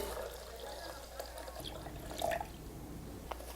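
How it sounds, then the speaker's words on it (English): Cold water poured onto oats while making oat milk, a soft trickling and dripping with a brief louder splash midway, close and fairly quiet over a faint background hum. "Once we got the oats, then we're gonna add our water."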